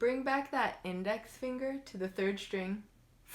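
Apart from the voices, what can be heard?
None of the usual background noises is heard.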